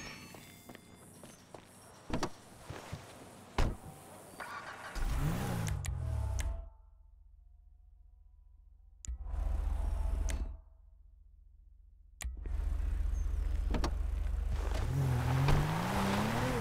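A car in Grand Theft Auto V heading toward Paleto Bay, with bursts of engine noise and revving separated by silent gaps, plus footsteps and other game sounds early on.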